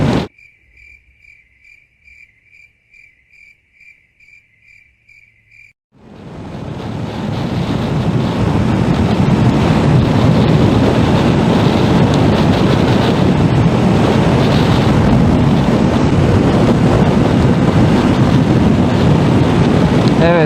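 Quiet insect chirping with a faint pulsing hum, then a sudden loud roar of strong wind buffeting the microphone while riding a motorcycle takes over and stays steady to the end.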